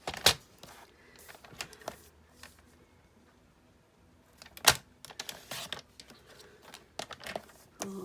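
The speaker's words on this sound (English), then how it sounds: "I'll get my trimmer and trim this down" A paper trimmer cuts card to size, giving a few sharp, close clicks and slides with quieter handling noises in between, and no talking.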